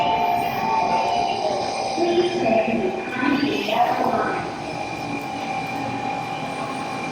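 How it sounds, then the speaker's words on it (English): A Shinkansen bullet train runs with a steady rushing hum and a faint whine, swelling briefly in the middle and then settling back, heard from inside without speech. "Shinkansen, man, you can't beat them. Quiet, peaceful, fast."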